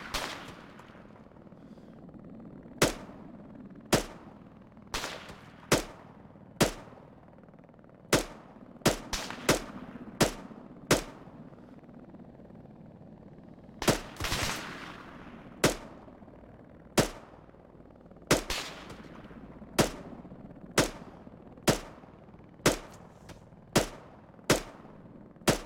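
Gunfire in ArmA 3, a series of sharp single shots at irregular intervals, some in quick pairs, each with a short echoing tail over a quiet background.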